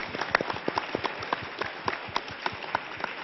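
A 1977 French television studio audience applauding a guest: scattered individual claps pop out unevenly over a soft background wash. The sound is thin and band-limited, like an old broadcast.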